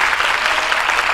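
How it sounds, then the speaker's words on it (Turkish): Audience applause at the Izmir gala premiere of a Turkish comedy film in a shopping mall, a dense, steady wash of clapping filling the whole short stretch without a break. "Kocaman alkışlarla"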